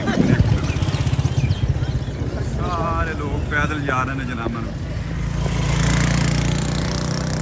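Motorcycles ride toward an Imran Khan rally, their engines puttering steadily throughout beneath someone talking in the foreground, with crowd noise around.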